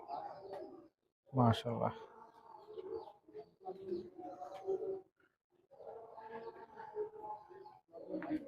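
Imported Pakistani high-flying pigeons coo softly in short bursts close by, largely beneath a man's ongoing speech.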